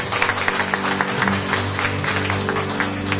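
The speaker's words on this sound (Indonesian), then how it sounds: "Kita berikan tepuk tangan buat Tuhan Yesus." Church congregation at a wedding ceremony claps in a loose, scattered rhythm over a sustained hum of music or organ tones, the applause fairly close and steady throughout.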